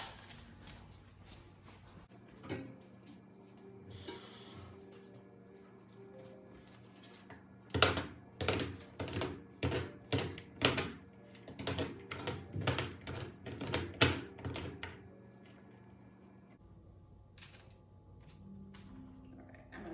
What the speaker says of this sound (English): we've got 4 ounces of Godiva bittersweet chocolate. We're going to chop that up